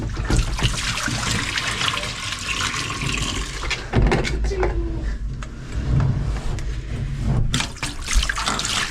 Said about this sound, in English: Dump all the water.